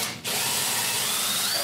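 A power drill bores pilot holes into a wooden picture frame, running loud and steady right after a short pause at the start, with no talking.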